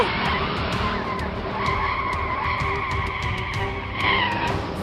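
A Lamborghini pulls away at the start of a race with a sustained engine roar and a continuous hiss of tire noise, loud and steady throughout, with faint sharp clicks on top and no talking.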